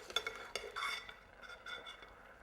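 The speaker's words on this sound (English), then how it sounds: "I'm just using a strainer spoon here to get out most of the garlic" A strainer spoon scrapes and scoops garlic and onions out of a pan over lowered heat, giving several close metallic clinks and scrapes over a faint, steady sizzle, with no voices.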